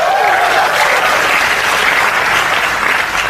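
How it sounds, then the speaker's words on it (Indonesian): Loud, dense applause from a seminar audience, a continuous wash of many hands clapping without a break, with no speech over it. "Tepuk tangan buat Anda semua."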